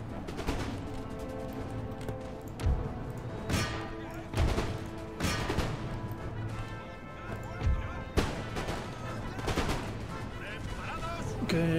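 Musket and rifle volleys from grenadiers and line infantry firing at militia in Empire Total War, a series of sharp cracking reports spaced across the battle over continuous din, with a voice talking throughout.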